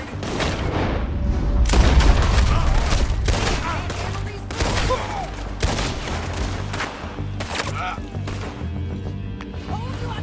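Gunfire rattles through a Red Dead Redemption 2 shootout as a dense fusillade of shots, some close and loud, others scattered, with animal bleats and voices mixed in.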